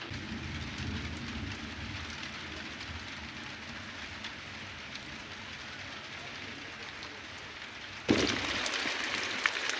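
Heavy rain pours down on a village in a steady, hissing wash that turns suddenly heavier and louder near the end, with no voices.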